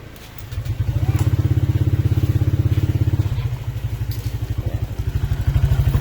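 A Honda Click 125i scooter engine starting up after a brief quiet moment, then running with a close, loud, rapid pulsing putter that dips briefly before steadying.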